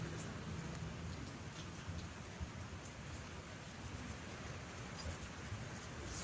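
Heavy rain pours down at a campsite, a steady, dense roar of drops hitting surfaces with a low rumbling undertone, unbroken and fairly faint overall, with no voices.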